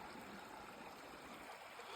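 Water sloshing and trickling in a gold pan during a quick clean, a steady broadband wash of moving water heard up close with no talking.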